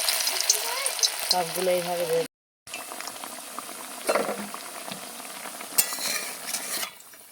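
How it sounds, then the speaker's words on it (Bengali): Food frying in hot oil in a wok, a bubbling sizzle with clinks of a utensil against the pan, broken by a brief silent gap, and someone talking over it early on. "এদিকে তেল কড়াই দিয়েছি, গরম হয়ে গেছে।"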